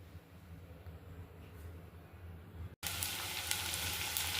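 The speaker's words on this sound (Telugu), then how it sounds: "ఇలా నూనెలో ఆనియన్, పచ్చిమిర్చి, వెల్లుల్లిపాయలు ముందుగా ఆయిల్ వేసేసుకొని ఫ్రై చేసుకోవాలి" Onion, green chillies and garlic hit hot oil in a kadai and burst into a loud, close sizzle after a quiet kitchen hum, then keep frying steadily.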